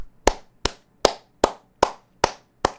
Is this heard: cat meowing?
no